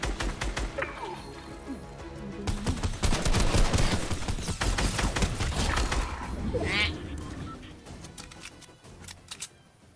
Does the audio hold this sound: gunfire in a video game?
yes